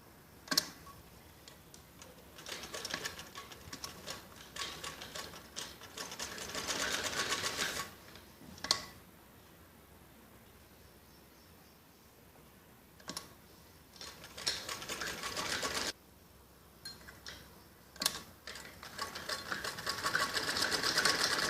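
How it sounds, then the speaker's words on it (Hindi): A sewing machine stitches the shoulder seams of a kids' top, its needle whirring in several short runs and one longer burst, separated by quiet pauses, close and fairly soft. "इसके कंधों पे ऐसे दोनों तरफ सिलाई लगानी होती है"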